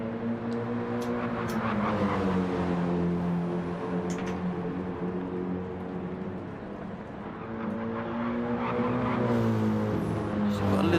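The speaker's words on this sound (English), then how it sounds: "Philo in the BMW." A BMW GT3 race car laps Watkins Glen in a racing video game, its engine a continuous droning whine whose pitch climbs and dips through gear changes, steady and prominent for the whole stretch.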